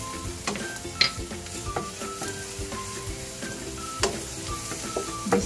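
Garlic and onion sautéing in a pan give a steady close sizzle, broken by frequent stirring scrapes and light clicks.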